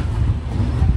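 Passenger train 08546 from Kurnool City to Visakhapatnam pulling away from platform 1, a steady low rumble with a little wind noise, close and continuous without any clear horn or distinct clatter.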